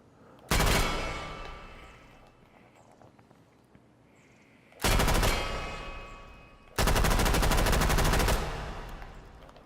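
Thompson submachine gun in a VR video game letting off three loud bursts of automatic fire, one short and two longer, each trailing off into a quieter, noisy room tone between them.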